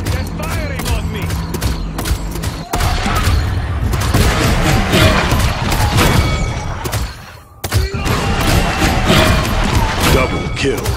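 Dense, continuous gunfire and explosive thumps from the hero shooter Paladins during a PC beta training shooting range session, loud and sustained with brief dips, under game announcer voice lines.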